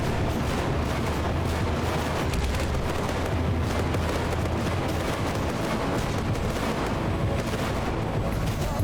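Fire bombs explode in a video game, a dense, continuous barrage of booms and blasts filling the whole stretch loudly with no pauses.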